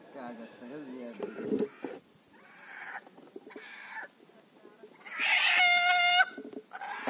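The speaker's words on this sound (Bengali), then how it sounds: "এই মোরগ ডাকিস নে" A rooster crows loudly for about a second amid nearby voices talking on a boat in the Sundarbans on a rainy day, with other faint bird calls around.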